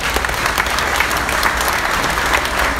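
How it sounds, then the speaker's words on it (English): A burst of steady applause from a crowd at a Belleville Senators hockey jersey launch event, clapping loudly and continuously with no talking over it. "Round of applause."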